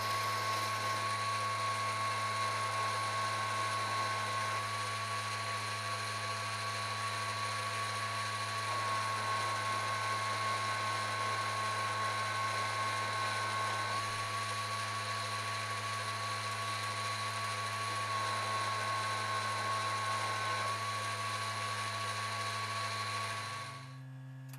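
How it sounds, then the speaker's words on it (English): Continuous mechanical whine of a lathe drilling metal with a tapping drill for an 8mm tap, a steady high tone over a low motor hum, close and unbroken for the whole stretch. "Then I changed it for a drill, a tapping drill, for an 8mm tap, and then tapped it"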